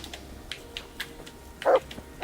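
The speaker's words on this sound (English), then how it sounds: "Dog." A dog barks in short, sharp bursts, a few faint yaps spaced out and then two louder barks near the end, heard fairly close in an indoor room with no talk.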